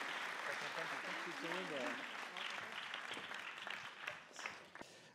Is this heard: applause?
yes